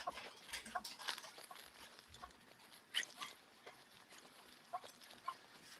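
A hunting dog bays during a competitive coon hunt in Michigan, its faint, repeated barks carrying from far off across a quiet night background.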